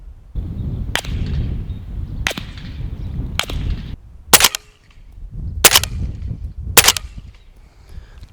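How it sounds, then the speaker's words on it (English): Gunshots from a Keystone Lake Armory Ripsaw heard from 100 yards downrange: six sharp, distant cracks spaced a second or so apart, each followed by a brief rolling echo over a steady outdoor background. "All right, here's what it sounds like at 100."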